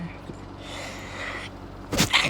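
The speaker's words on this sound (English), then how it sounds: "I just sneezed between the talking" A single sneeze bursts out close by, breaking into an otherwise quiet stretch near the end, a sharp loud burst with a short follow-through.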